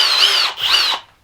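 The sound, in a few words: Kobalt drill driving a 10-inch screw into wood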